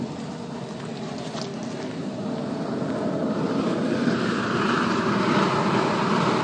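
A pellet burner with a variable speed blower runs with a steady whooshing roar that grows gradually louder and fuller over several seconds, continuous and close, with no voices.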